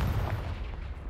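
A Confringo blasting spell explodes in Hogwarts Legacy, one deep booming burst that rumbles and fades over about a second, close and loud with no talk.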